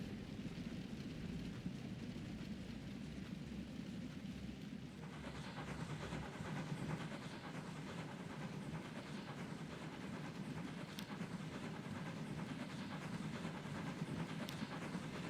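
A train rolls in across the tracks in the railway simulation Transport Fever 2, a steady rumbling clatter with faint rhythmic clicks that grows fuller partway through, carrying on with no talk over it.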